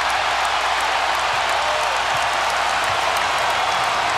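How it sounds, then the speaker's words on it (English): A packed arena basketball crowd roars after NC State beats Duke, a dense, loud, unbroken wall of cheering and shouting with no pauses. "Listen to this crowd."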